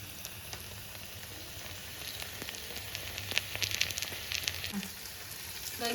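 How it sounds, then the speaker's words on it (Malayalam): Ivy gourd (kovakka) frying in oil in a pan, a continuous soft sizzle and crackle with small pops, fairly quiet and heard alone. "അപ്പോൾ ഇതുപോലെ നമുക്ക് ബാക്കിയെല്ലാം കൂടെ ഒന്ന് ഫ്രൈ ചെയ്തെടുക്കാം"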